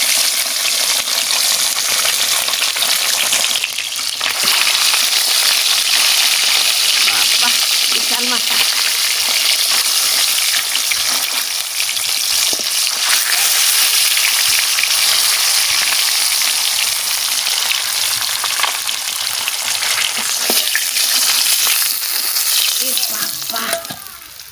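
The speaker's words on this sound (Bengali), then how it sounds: "মাথাটা আগে ভাজা হচ্ছে" A whole rohu fish head frying in hot oil for a potato curry, giving a loud, dense, continuous close sizzle with occasional crackles and spatters throughout.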